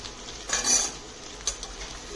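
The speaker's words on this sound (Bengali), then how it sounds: "ভালো করে মিশিয়ে নিচ্ছি।" Maggi masala being mixed through in a pan, with a few close spoon scrapes and light metallic clinks over a quiet background hiss.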